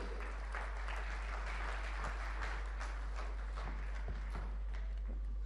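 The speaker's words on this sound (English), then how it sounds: "So please, with a thunderous applause, let's welcome on stage Joy Bhattacharjya" Audience applause at a conference welcoming a speaker on stage: a sustained, fairly distant round of clapping from a large crowd, steady in level from start to finish.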